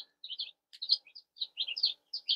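Baby chicks in a brooder peep in quick, high, scattered chirps, several overlapping at close range against a quiet background.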